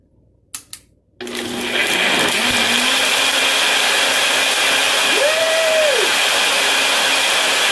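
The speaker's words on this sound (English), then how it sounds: "this NutriBullet is actually made to make hot soups with" A NutriBullet blender blends hot birria soup, starting with a couple of brief clicks and then a loud, steady motor whine that holds for several seconds, its pitch rising briefly partway through.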